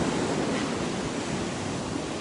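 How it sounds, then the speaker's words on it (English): Big ocean waves crash continuously in a loud, steady roar of surf with no voices. "those are beautiful waves, big crashing waves"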